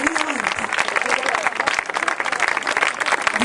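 Audience applauding at an evangelistic campaign meeting in Ragusa: continuous, loud, dense clapping from a crowd, with a voice speaking over it.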